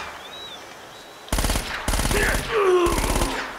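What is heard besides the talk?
enemy submachine gun rapid fire in video game Uncharted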